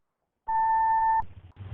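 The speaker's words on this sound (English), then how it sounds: "Please leave your name and phone number after the beep." A single clean electronic answering machine beep holds a steady tone for under a second, then stops, leaving faint low room noise behind.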